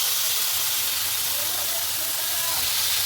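Chicken kebabs sizzle loudly in a hot pan, a dense, steady hiss up close that fills the whole moment without a break.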